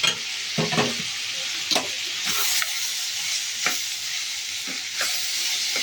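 Chopped tomatoes frying in a pan for a ridge gourd and chana dal curry, a steady sizzle broken by several short scraping stirs of a spoon against the pan, close up with no talking.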